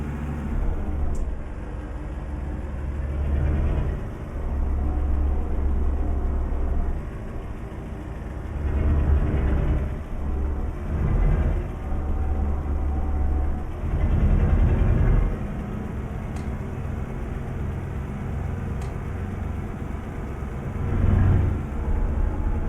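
A Ford Cargo 2520 truck engine in Euro Truck Simulator 2 rumbles deep and close, swelling and easing in slow pulses as it runs, with no voices.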